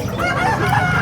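At the Bocaue pets and livestock market, a rooster crows briefly against a dense, noisy market background.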